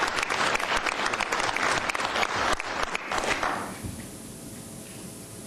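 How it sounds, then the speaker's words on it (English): Audience applause at a city council meeting, a crowd clapping briskly and loudly for several seconds before the clapping thins and fades into quiet room tone with a few scattered claps. "Let's give them also a big round of applause."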